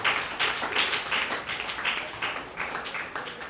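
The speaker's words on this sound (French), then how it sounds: "On applaudit donc pour Nour." An audience applauds at a youth festival certificate ceremony in Congo, a steady patter of clapping rising and falling in waves over about three and a half seconds, with no talk over it.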